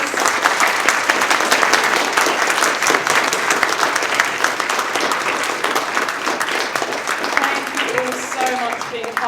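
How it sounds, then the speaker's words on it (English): Audience applause at a Comic Con panel, a dense, loud, continuous clatter of many hands lasting throughout, with a few voices murmuring beneath near the end. "Please give our panel a big round of applause."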